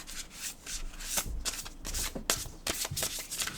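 A deck of Earth and Bone Oracle cards being shuffled close by in quick, repeated riffling bursts with soft rubbing between them, no voices over the sound.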